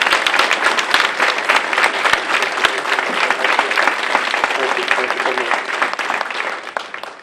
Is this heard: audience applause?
yes